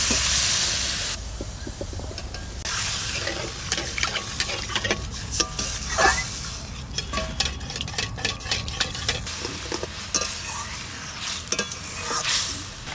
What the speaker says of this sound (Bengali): জলটা খুব সুন্দর ফুটে গেছে